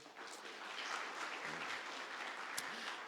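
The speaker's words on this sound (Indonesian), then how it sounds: "tepuk tangan dulu buat kalian" A church congregation at GKKA Panakukang applauds for the church's birthday, a moderate, even patter of many hands clapping that swells in and holds steady for a few seconds.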